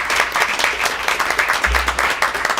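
Audience applause for a student at a school board meeting, steady dense clapping from a room full of people throughout, loud and close.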